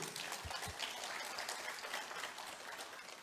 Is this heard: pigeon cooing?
no